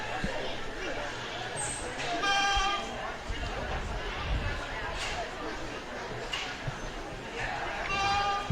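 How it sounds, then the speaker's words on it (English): Goats at a goat show bleat a few times, short wavering calls rising over a busy crowd of chattering people in a barn or arena. "I believe that's the first time we've heard a goat"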